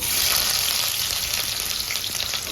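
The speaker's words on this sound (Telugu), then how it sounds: "ఆయిల్ అయితే హీట్ అయింది చిన్నగా కట్ చేసుకున్న మీడియం సైజ్ ఉల్లిపాయలు ఒక రెండు" Small-cut medium onions fry in heated oil, a loud, continuous sizzling hiss that stays steady and close with no voices.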